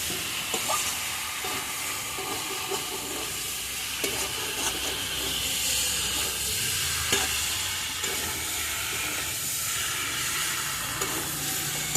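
Green chillies frying and being stirred in a pan over a wood fire on a rooftop on a winter morning, a steady loud sizzle with occasional scraping stirs, close and continuous, no talking.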